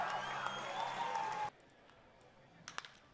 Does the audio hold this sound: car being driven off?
no